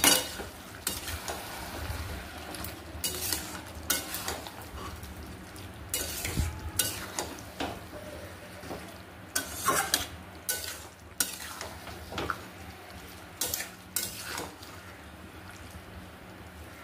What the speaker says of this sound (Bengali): ঢাকা দিয়ে ভালো করে কষিয়ে নিতে হবে।